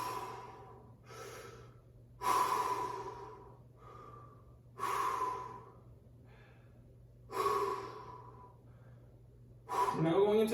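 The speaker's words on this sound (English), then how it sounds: "5 deep breaths." Deep breathing during a standing one-leg warm-up for swimmers: four slow, audible breaths spaced about every two and a half seconds, close, over a low steady hum.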